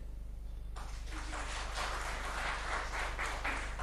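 An audience at a political speech breaks into applause, a dense wash of clapping that rises suddenly and carries on steadily over a low constant hum, with no speech during it.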